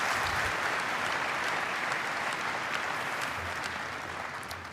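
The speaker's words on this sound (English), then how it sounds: "Big round of applause." An audience at a keynote event applauds in a dense, steady burst of clapping that fills the whole moment and fades slightly toward the end.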